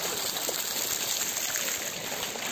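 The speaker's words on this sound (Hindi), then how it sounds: "टुलिप गार्डन के फाउंटेन वाले इसमें हूँ, देखो मैं चल रही हूँ पानी में" Footsteps wading through water in the Tulip Garden fountain, a continuous splashing and gushing wash of water close by, with no talk over it.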